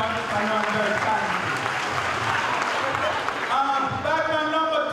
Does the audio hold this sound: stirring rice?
no